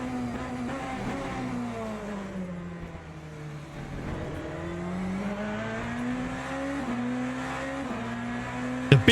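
BMW hypercar engine in the Le Mans Ultimate racing game, revving and accelerating steadily through gear changes with rising and falling pitch, loud and continuous, a brief burst near the end.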